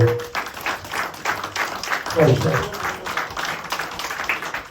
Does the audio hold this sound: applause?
yes